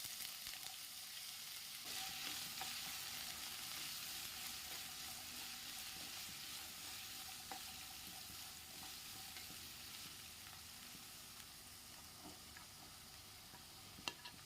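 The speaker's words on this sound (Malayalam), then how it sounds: "നമ്മൾ അരിഞ്ഞു വെച്ചേക്കുന്ന ഉരുളക്കിഴങ്ങും ബീൻസും എല്ലാം ഇട്ട് കൊടുത്തേ. ഒന്ന് ഇളക്കി കൊടുത്ത ശേഷം ബാക്കി പച്ചക്കറികളും ഇട്ട് കൊടുക്കാം." Potatoes, beans and vegetables fry in hot ghee with a steady, close sizzle throughout, broken by light scraping stir strokes and occasional small ticks of the spoon against the pan; no one speaks.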